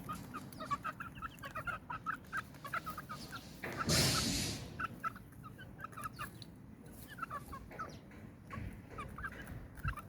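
Chickens cluck repeatedly in short bursts, with a brief louder rustle partway through, all fairly quiet and close.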